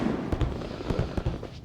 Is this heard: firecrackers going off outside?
yes